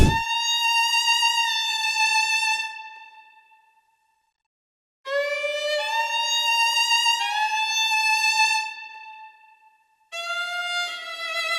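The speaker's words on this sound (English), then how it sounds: "That is a violin that you probably listen a lot of times." Bowed violin phrases, bright and sustained, played in three passages separated by brief silences, each note gliding into the next.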